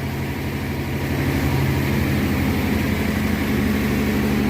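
A 1957 Thunderbird engine, off the road for 35 years, running at a steady low idle, a continuous close rumble with no talk.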